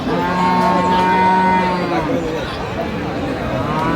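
Cattle lowing at a busy livestock market in Dinajpur selling large bulls before Qurbani, long mooing calls close by, heard among crowd noise and people talking.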